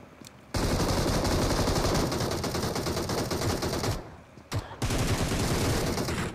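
Heavy automatic gunfire from a BGMI fight, with long rapid bursts of shots and two short pauses before the firing resumes, loud and dense throughout, with no talk.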